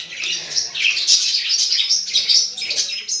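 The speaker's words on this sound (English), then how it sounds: "sun conure" A sun conure parrot chirps and squawks continuously at close range, loud, shrill calls overlapping in quick bursts with no talk.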